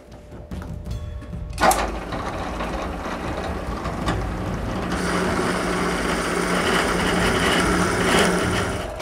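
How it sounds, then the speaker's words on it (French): Drill boring a quarter-inch hole through the center of a three-quarter-inch wooden dowel, a close whirring grind that starts after a sharp click and continues steadily, slightly strengthening as the bit cuts, with no speech. "je perce un trou d'1/4 de pouce au centre d'un goujon de 3/4."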